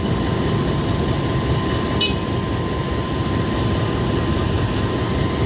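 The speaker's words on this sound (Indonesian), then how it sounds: "Lokomotif kedua yang menjalani uji reyen setelah menjalani proses general check up atau GCU eks mutasian dari Sumatera" A CC 206 diesel locomotive, a unit transferred from Sumatra, runs during a post-overhaul test run, giving a steady loud engine rumble with a constant tonal whine and no voices.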